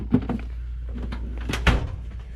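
A drawer full of video games being handled, a few wooden knocks and thuds followed by a sliding scrape and a final clunk, close and brief.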